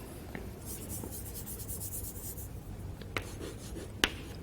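Chalk or marker scratches across a board during a mathematics lecture on modular forms, a soft continuous scrawl followed by a few sharp taps, fairly quiet against room noise with no talk.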